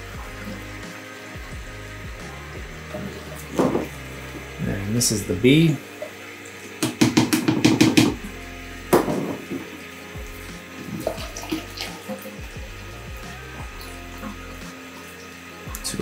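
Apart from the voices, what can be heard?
hot water running from a tap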